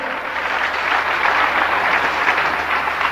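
A church congregation claps together during a sermon, a full, dense round of applause that stays loud and even with no talk over it.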